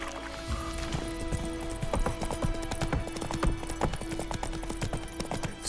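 The horse Roach's hooves clip-clop at a steady walking rhythm in The Witcher 3, close and clear over soft ambient game sound.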